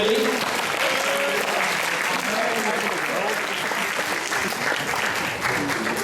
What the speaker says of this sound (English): Right, give them all a round of applause for those 3.